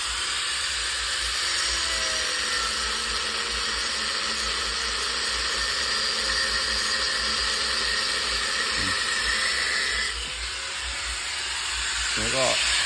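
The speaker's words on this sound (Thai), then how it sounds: "ตอนนี้ก็กำลังตัด อันนี้จะตัดออกนะครับเนี่ย" A power tool grinds steadily through a welded nut on the steering system of a walk-behind tractor, a loud continuous hissing whine that dips briefly near the end, with faint talk underneath.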